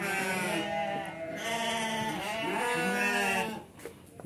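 Sheep in a simple wire-walled pen with a bare dirt floor bleat loudly and close, several overlapping drawn-out calls in quick succession.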